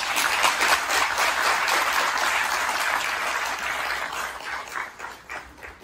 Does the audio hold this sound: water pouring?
no